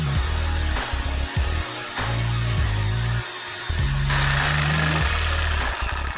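Reciprocating saw fitted with an 8-inch diamond grit blade cutting rebar, loud harsh rasping and grinding in fast reciprocating bursts with brief pauses and pitch shifts as the cut bogs and restarts.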